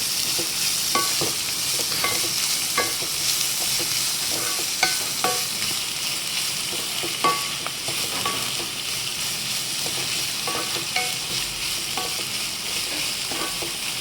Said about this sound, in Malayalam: നന്നായിട്ട് ഇളക്കി കൊടുക്കുക.